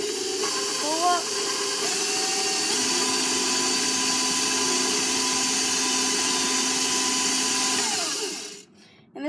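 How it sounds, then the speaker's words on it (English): Electric stand mixer creaming butter and sugar at high speed, a steady loud whirring motor hum that shifts pitch a few times before cutting out near the end. "I have more confidence in the mixer, so I'm using more high speeds"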